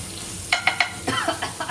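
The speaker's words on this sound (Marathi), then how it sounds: "हे बघा, थोडीशी पेस्ट पण टाकते. गॅस आपल्याला वाढवूया. मस्त छान अशी पण परतून घेऊया बघा." Garlic paste sautéing in a pan of dry mutton tawa over a high gas flame, brief bursts of sizzling and stirring with a few light scrapes, close and moderately loud.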